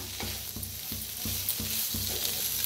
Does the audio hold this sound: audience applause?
no